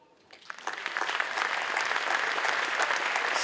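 Applause from the crowd at the mayor of Vence's New Year wishes speech starts thin and quickly swells into full, steady clapping that holds to the end.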